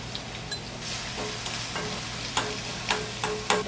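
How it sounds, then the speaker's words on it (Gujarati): Ginger-chili-garlic paste and curry leaves sauté in hot oil for a Gujarati moong curry, giving a steady close sizzle with sharp crackles and spatters popping through at irregular moments. "આપણે આદુ મરચાં લસણ પેસ્ટ તેલમાં જરા સાતવી લેવાનું"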